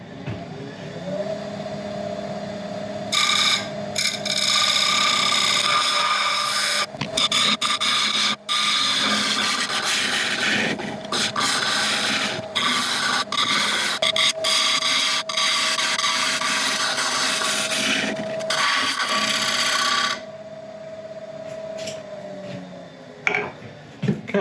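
A lathe turning a black locust and soapstone resin blank while a tool makes a pass, giving a loud continuous scraping hum with a steady motor tone that starts, holds for about twenty seconds and stops.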